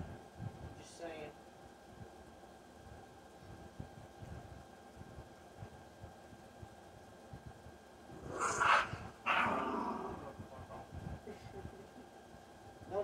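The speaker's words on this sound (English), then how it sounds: "that's just my friend playing with my dog in the background" A Jack Russell Terrier plays with a person somewhere in the background, giving off faint snorts and growly huffs, with a louder burst of rough growling late on over a low steady room hum.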